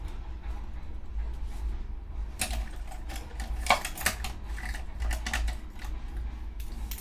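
A few bursts of crisp clicking and sliding scrapes as a paper trimmer cuts, fairly quiet and close, over a low background hum.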